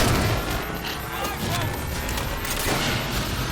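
Turret gunfire in the Halo 4 video game, a loud, rapid barrage of overlapping shots and booms that carries on throughout with some voices underneath.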